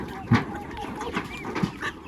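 Free-range H'mong black-boned chickens give a few soft clucks on a farm, with two brief louder calls amid outdoor background noise and quiet talk.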